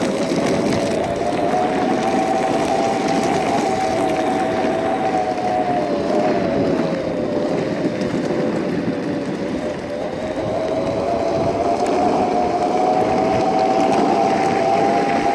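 FOCBOX Unity electric skateboard at full throttle climbing a hill, a continuous whining motor drone with a steady pitch that sags slightly midway and rises again, loud and close over road rumble, with no talk.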